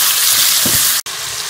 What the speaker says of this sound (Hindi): चिकन जो का कलर चेंज करने तक मैं इसको फ्राई कर लूँगी